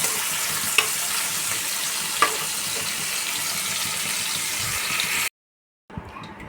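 Prawns fry lightly in oil with a steady close sizzle and a couple of clicks from the utensil, then the sound drops out briefly before a faint return.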